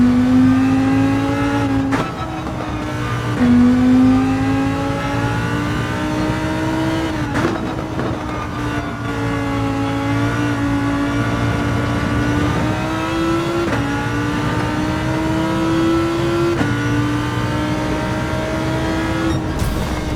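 Gran Turismo 7 race cars on the final lap at Autopolis in an online qualifier: a loud continuous engine drone that rises and falls with gear shifts and acceleration, steady and close throughout with no talk.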